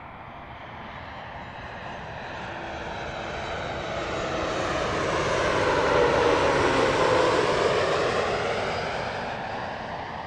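A Norwegian airliner's jet engines roar at London Gatwick Airport, a broad whooshing rumble that swells to a peak around the middle and then eases slightly, with no voices.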